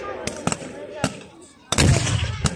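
A German self-propelled gun fires at a Soviet tank during a historical battle reenactment: several sharp distant reports, then one heavy close blast with a rumbling tail and a final shot, with faint voices in the background.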